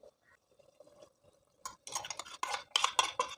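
Ground roasted coconut paste is poured into a pot of cashew nut curry, starting with faint soft plops and rising into a burst of clattering, scraping pot-and-spoon sounds close by.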